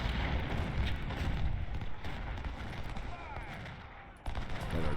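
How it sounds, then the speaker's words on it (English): A Civil War battle in the Ultimate General strategy game rages with a dense, continuous barrage of artillery booms and crackling gunfire. The roar dips briefly before surging back. "That artillery's doing a number on me down there"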